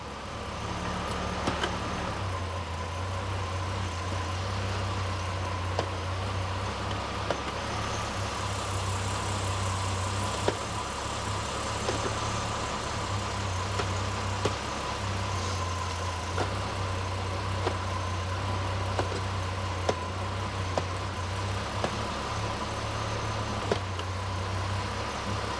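A revived Jeep Cherokee XJ engine idles steadily for a long stretch, a low even rumble with a faint whine, close and continuous with occasional small clicks and no talking.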